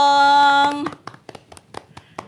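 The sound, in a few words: applause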